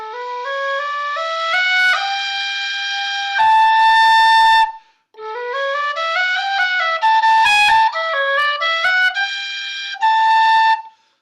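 A wide-bore Pro A tin whistle plays a two-fingered C among bright rising and falling note runs, clear and close, in two phrases separated by a short pause, with no talking.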